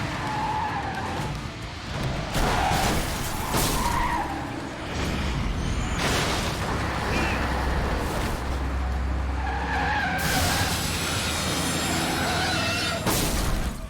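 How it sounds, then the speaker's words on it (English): A truck skids loudly in the Yakuza 6 video game, a long grinding tire skid with rumbling engine that stays very loud and dominant throughout, swelling in repeated surges over the whole stretch. "I'm not sure why that truck has like 20 decibels over every other sound in this game"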